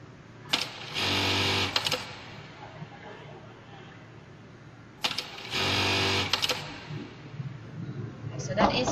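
A bar tacking sewing machine fires two short bursts of rapid stitching several seconds apart, each about a second long and loud up close, with quiet room noise and faint background chatter between them.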